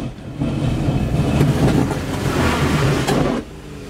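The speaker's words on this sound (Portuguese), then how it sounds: "Desculpa o barulho da chapa aí, galera, porque o carro é baixo." Lowered car drives along with a continuous rattling, scraping drone from its underbody plate, fairly loud and steady for about three seconds before cutting off abruptly.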